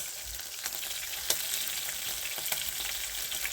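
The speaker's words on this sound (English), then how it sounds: "we are cooking meat" Beef frying in a pan for a cabbage and beef stew, a steady loud hiss and crackle with occasional sharper pops, no voices.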